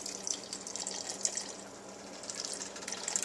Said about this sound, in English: go ahead and pour the juice from these clams into here.